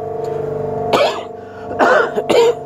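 Several harsh coughs, one isolated burst followed by a quick double cough, close and loud over a steady low mechanical hum.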